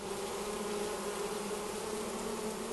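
Honey bees buzz in a crowded hive, a dense, even drone that holds steady and close throughout.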